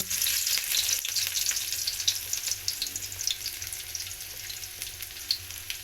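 Ginger and garlic sautéing in a hot pan, a steady close sizzle and crackle of frying with occasional stirring clicks, no voices over it.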